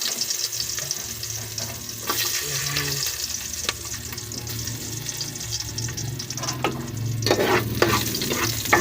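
Garlic frying in a pan, a steady, close, broadband sizzle that runs the whole time, with scraping stir strokes cutting through now and then and growing louder toward the end.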